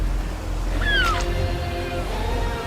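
Seagull cry in a Black Myth: Wukong cutscene by the ocean, one short rising-falling call over a steady low ambient bed.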